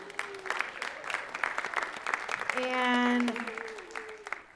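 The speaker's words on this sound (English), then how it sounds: "A round of applause." Audience applause at a school Writers Week assembly, a burst of clapping that swells and holds under a speaker's voice on the microphone.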